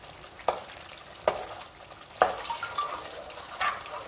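Milk cream simmers and sizzles on a low flame as it separates into desi ghee, and a spoon scrapes through the pan in a few distinct strokes over a constant frying hiss.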